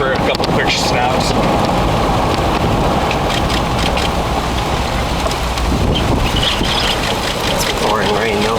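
Heavy pouring rain during a thunderstorm near Tahoka, Texas, drums steadily and loudly on a vehicle in dense broadband noise, with voices talking over it throughout.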